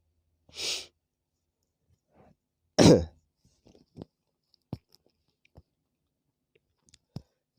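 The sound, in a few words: coughing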